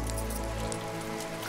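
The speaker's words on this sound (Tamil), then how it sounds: "மழை ஆரம்பிக்கும்." Rain begins to fall, a steady dense patter of drops on surfaces with a low hum that cuts off partway through, and no talking.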